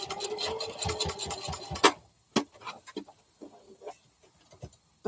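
A sewing machine stitches fabric in a rapid, steady run of needle ticks for nearly two seconds, then stops, leaving scattered soft clicks and handling taps.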